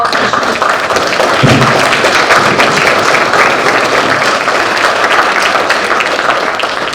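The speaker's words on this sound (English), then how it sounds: "I want to give her a big round of applause for all of this." A crowd at a delegates meeting applauding, dense steady clapping that fills the room at a consistent level for several seconds, with a soft thump early on.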